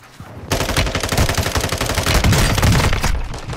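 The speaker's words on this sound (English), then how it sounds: "Nice, you got me with a pistol." Pistol gunfire crackles in Call of Duty: Modern Warfare II on the Resurgence map, a loud, rapid, sustained burst of shots that starts abruptly and continues for a few seconds.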